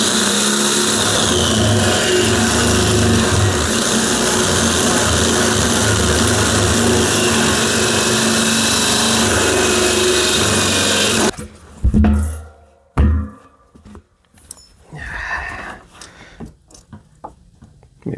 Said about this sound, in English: got a carbide bit on the old good old dependable electric drill